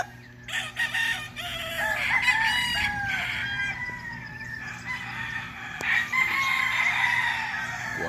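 Several gamefarm roosters at a farm in Alfonso, Cavite crow in overlapping calls, near and loud, with a few clucks among them over a steady background hum.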